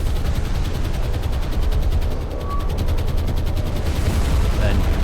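Naval anti-aircraft guns from Japanese warships in a War on the Sea battle keep up a rapid, continuous hammering, loud and steady through the whole stretch.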